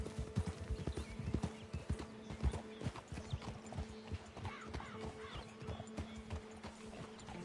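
Horse hooves clip-clop steadily over ground with an occasional whinny, mixed with game-like background sounds at moderate volume.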